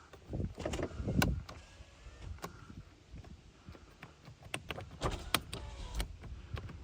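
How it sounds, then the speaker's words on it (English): Power window motors in a 1999 Toyota Avalon running as the windows move, a whirring hum with several clicks and thumps from the door mechanisms, close and moderately loud, no speech. "Let's check our window function."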